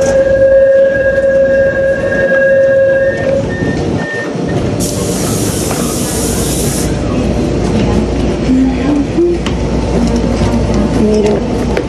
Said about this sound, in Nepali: मेरो ट्रेन आइपुगिसकेको छ होइन।